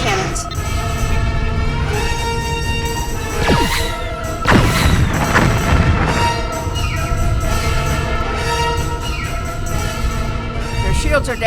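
Disruptor cannons fire on a ship in a sci-fi space battle, a dense, loud barrage of crashing blasts and booming impacts with whooshing sweeps over a constant roaring, tonal score.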